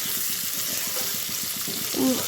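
Tomatoes and mixed vegetables fry in a pan with a steady, close sizzle, broken by soft stirring scrapes and a brief voice near the end.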